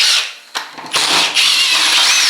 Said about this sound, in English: So we just get our cordless drill then,